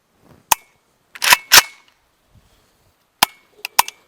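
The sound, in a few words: gunshots from Norinco NHM-91 rifle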